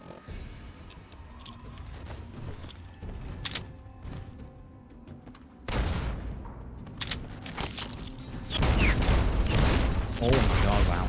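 Enemy gunfire in the video game Fallout: Tale of Two Wastelands: scattered shots and bursts grow into heavy, sustained volleys near the end, with game sounds underneath.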